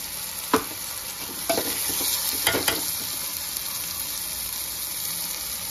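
Tomato and dry coconut roasting in a pan, with a steady soft sizzle and a few sharp scrapes of stirring near the start and middle, no voices.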